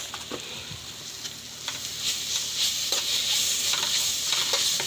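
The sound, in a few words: frying noodles with Schezwan chutney being added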